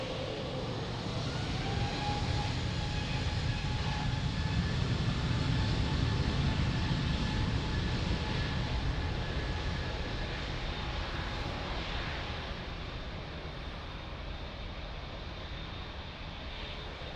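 Airliner at Lisbon Airport, its engine roar sustained and broadband throughout, swelling slightly in the middle and easing toward the end, heard from a moderate distance without any voices.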